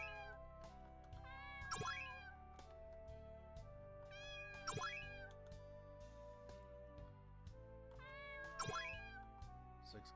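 Cats in a video game meow three times, roughly every three seconds, each call rising clearly above steady game music.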